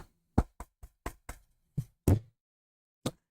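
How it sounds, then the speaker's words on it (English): A series of sharp, close knocks in an uneven rhythm, about eight quick raps followed by a pause and one last knock, with silence between the hits. "I did knock"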